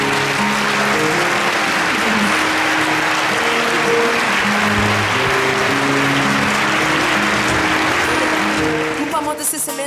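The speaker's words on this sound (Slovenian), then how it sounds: "En aplavz tudi za vse ostale nastopajoče ta večer." Steady, dense applause from a large audience at a St. Nicholas concert fills the whole stretch, with crowd voices and musical tones mixed underneath, tapering near the end.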